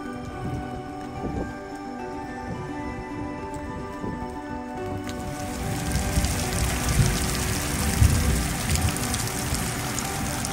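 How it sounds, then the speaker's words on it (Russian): Steady heavy rain pours down, growing denser and louder halfway through, with scattered drops hitting surfaces nearby. "Потом проливной дождь."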